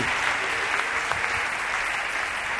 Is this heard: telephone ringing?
no